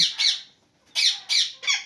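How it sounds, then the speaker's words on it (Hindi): Pet parrot raised from a chick squawks in four loud, harsh bursts close by, with a brief pause after the first call and then three rapid calls in quick succession, no talking. "कुछ तोते हमारे ऐसे हैं जिनको हमने बचपन से पाला हुआ है यार।"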